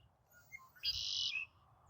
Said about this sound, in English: I have a bird singing right above me.